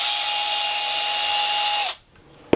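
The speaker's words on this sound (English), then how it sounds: "you turn the pedal over and unscrew" A power drill unscrewing the corner screws on the underside of a guitar pedal, a steady high whine for almost two seconds that winds down and stops, followed by a small click.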